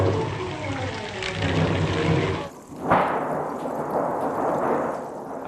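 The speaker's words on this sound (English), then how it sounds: "And that particular sound was used in the big toxic waste storm." Loud, rushing, noisy wind-like roar that dips briefly and surges again, dense and continuous like a stormy gust effect.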